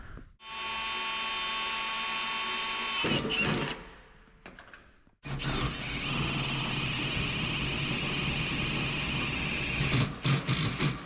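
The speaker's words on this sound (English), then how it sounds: "It drills your pilot hole, get it started." A power drill with a DeWalt pilot point bit whines steadily, stops for a moment with some clunks, then starts again with rougher, louder grinding as it bites into material in a shop.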